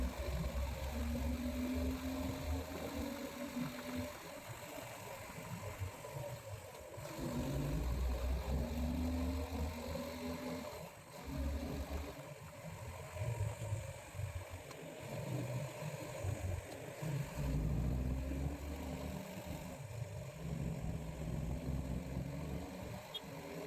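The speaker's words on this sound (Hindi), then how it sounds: "बाइक की गड़गड़ाहट, सन्नाटा तोड़ती हवा और सामने फैली ये शानदार घाट रोड" A motorbike rumbles along a ghat road in the hills near Ooty with a low, steady engine drone and wind noise, the throttle swelling and easing from time to time over about twenty seconds, fairly quiet overall.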